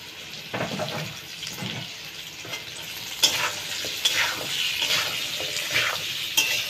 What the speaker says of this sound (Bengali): দেব মশলাটা কষানো হয়ে গেছে